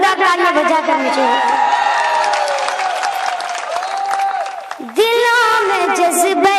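Audience at a Hindi-Urdu poetry gathering applauding and cheering loudly and continuously, with whoops and shouting voices, a brief dip, then a renewed burst of cheers near the end.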